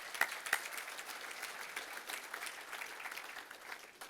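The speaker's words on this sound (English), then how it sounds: "Let's give a round of applause." Attendees at a regional chamber of commerce annual meeting applaud, a sustained patter of many hands from a medium-sized room with a couple of loud nearby claps at the start, steady throughout.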